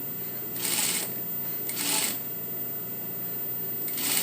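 Sewing machine stitching a sleeve into a bodice in short bursts, three brief whirring runs of stitching separated by pauses, close and fairly clear against a quiet room.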